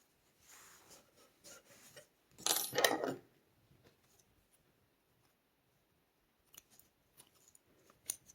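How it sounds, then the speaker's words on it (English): Scissors snipping crochet yarn on an Easter bunny toy, a brief crisp close-up cut with a few faint clicks of handling before and after in a quiet room. "Cut it off."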